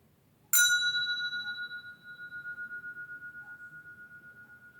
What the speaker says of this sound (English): I'm going to ring a bell